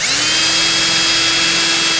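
Power drill working on the vent window of a 1952 Chevy pickup, a loud, continuous high whine with a steady motor pitch, close up and uninterrupted.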